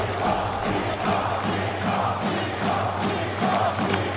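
An esports arena crowd at a Legacy versus Falcons quarterfinal roars and cheers after Nico takes all five kills for an ace. The cheering is a loud, steady, dense wall of noise that lasts the whole stretch.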